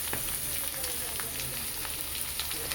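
Sliced potatoes, ridge gourd and eggplant sizzle steadily in a frying pan with a dense, even crackle at moderate loudness, with faint background sounds.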